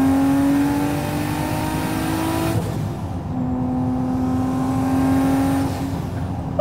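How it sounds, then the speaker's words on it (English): A single-turbo 1991 Acura NSX engine revs hard and climbs in pitch, drops briefly between gears, then pulls up again with a loud, close, droning whine. "like a turbocharger spooling up directly behind your ears"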